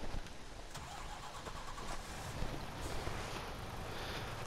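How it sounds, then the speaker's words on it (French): A truck engine in Farming Simulator 19 cranks and turns over, then settles into a steady, noisy rumble with no voices. "Alors, on va monter dans le camion."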